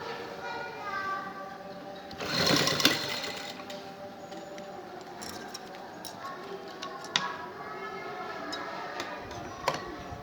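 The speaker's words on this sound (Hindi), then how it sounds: "अब इसी तरीके से इस साइड पे भी सिलाई लगाएंगे।" A sewing machine stitches a neck design on a garment, its quick whirring and ticking run rising in a louder burst near the start, then softer ticks and clicks, with talking mixed in.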